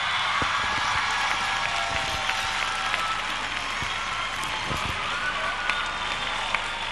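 An audience at a murga carnival contest applauds the winning group Las Basilonas: steady, sustained clapping from a large crowd, with a few sharper claps standing out and no voices over it.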